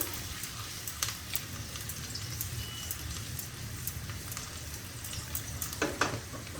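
Garlic and green chillies fry in hot oil, a soft, even sizzle with scattered crackles and a brief stirring clatter near the end, fairly quiet and without speech.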